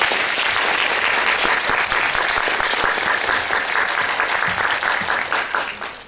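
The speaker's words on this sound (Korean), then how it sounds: "여러분들 박수로 환영해 주시기 바랍니다." An audience at a Korean lecture on cooperatives applauds steadily to welcome a visiting professor, with dense sustained clapping that fades toward the end.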